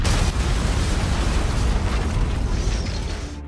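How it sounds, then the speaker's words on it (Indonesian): A loud, sustained explosive roar with heavy low-end rumble from a very large explosion, churning steadily for several seconds before fading slightly at the end. "tewas dalam ledakan yang sangat besar"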